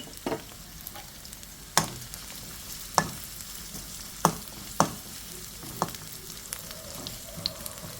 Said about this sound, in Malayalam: ഉള്ളിയൊക്കെ നന്നായിട്ട് വഴറ്റിയെടുക്കണം